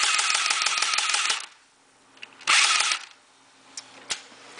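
Airsoft gun mounted in a cardboard base firing, a rapid close burst of sharp clicking shots, then silence and a second shorter burst, followed by a few isolated mechanical clicks.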